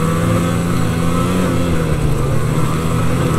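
A snowmobile engine roars continuously at high revs while riding along a rough trail, loud and close throughout, forming a dense, unbroken mechanical drone.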